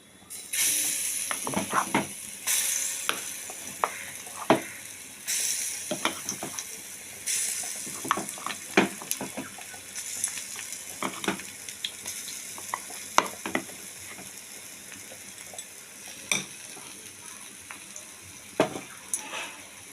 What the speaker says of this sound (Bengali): এবার আমি তেলে ফোড়নটা গরম হয়ে গেছে, এটা আমি এবার ছেড়ে দেব। দেখুন অল্প অল্প করে আমি দিয়ে দিচ্ছি।